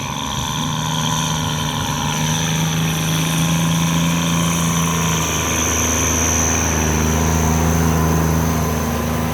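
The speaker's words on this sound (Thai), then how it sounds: "รถไถซิ่งโคราชครับ" A modified racing-style farm tractor from Korat, Thailand, fitted with a rotary tiller for paddy work, runs its engine nearby with a loud, steady droning hum that holds its pitch throughout, with no talk.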